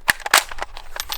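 A steel Bulgarian magazine clacking into a PSA AK-103 rifle, a quick cluster of sharp, close metallic clicks and knocks in about a second.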